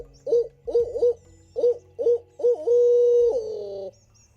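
Owl hoot call imitated by a hunter at dawn atop a wooded ridge to locate turkeys: a series of short, loud, rhythmic hoots close by, ending in a longer drawn-out hoot, with no talking.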